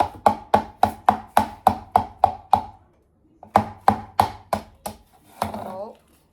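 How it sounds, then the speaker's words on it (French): Eggs being cut with a knife on a board while a traditional dish is prepared, a quick series of about a dozen sharp, close chopping taps in two bursts separated by a short pause, ending in a softer scraping sound. "Je coupe."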